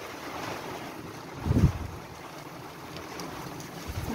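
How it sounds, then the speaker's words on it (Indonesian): Wind and rain storm in Saudi Arabia, a steady rushing gust noise with a brief louder thump midway, fairly faint and continuous with no speech. "Hujan guys, hujan angin."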